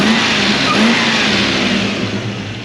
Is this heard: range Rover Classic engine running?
yes